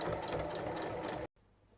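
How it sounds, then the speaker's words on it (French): A domestic sewing machine stitches fabric pieces along their full length, a loud continuous whirring run of rapid needle strokes that stops abruptly, leaving faint room noise. "On épingle les parties ensemble et on pique sur toute la longueur."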